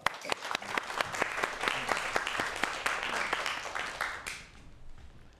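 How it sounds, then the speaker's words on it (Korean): Audience applause for a lecturer introduced at an emergency-medicine talk, with a few sharp early claps swelling into dense, sustained clapping that fades out over the final second. "박수 부탁드리겠습니다"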